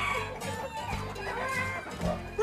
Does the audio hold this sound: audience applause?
no